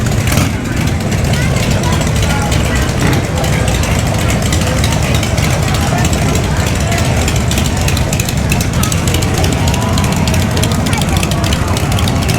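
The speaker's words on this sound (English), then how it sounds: "Traffic jam. These bikes are just waiting to pass." Motorcycles idling in a traffic jam at the Sturgis rally in South Dakota, a steady, dense low engine rumble from many bikes, loud and continuous throughout, with faint voices underneath.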